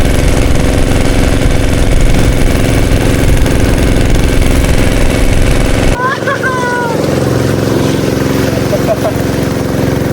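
A boat engine on the Napo River in the Amazon drones loudly and steadily for about six seconds, then drops to a quieter, lower rumble with faint voices over it.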